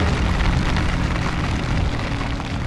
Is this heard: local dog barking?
no